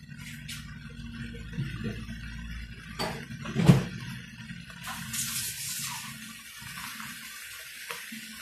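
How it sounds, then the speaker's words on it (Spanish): A glass of water is poured into a cooking pot of Peruvian picante de pollo, a soft steady splashing and trickle that is quiet and close, with a brief clunk partway through. "Ahora sí voy a agregar antes de tapar un vaso de agua."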